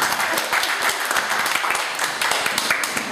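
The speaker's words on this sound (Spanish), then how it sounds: "Sí, un aplauso." Audience applause at a theatre seminar event, lively mixed clapping from a modest crowd with distinct individual claps standing out, continuous and fairly close for a few seconds.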